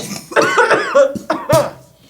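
A harsh, raspy cough in several bursts at close range, loud and throaty with brief pauses between hacks.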